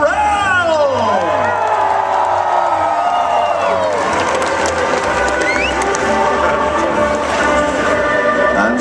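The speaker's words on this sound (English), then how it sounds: "Raise a mighty cheer for all of the Knights of the Realm." An audience at the Comikaze cosplay contest in Los Angeles, 2013, cheers for the Knights of the Realm: a loud, sustained roar of crowd voices with whoops and shrill whistles that continues for the whole stretch.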